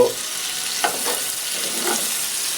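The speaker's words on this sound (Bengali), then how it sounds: "একটু ভাজা ভাজা করে নেবে শুটকিটা" Sylheti dried fish (shutki) frying in a pan, a steady hiss of sizzling oil with a few soft scrapes, close and continuous, no voices.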